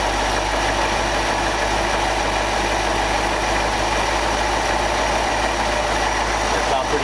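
A 1965 Ford F600 truck engine idles steadily, with a continuous low rumble and broadband mechanical noise throughout, close and fairly loud, with voices talking faintly over it.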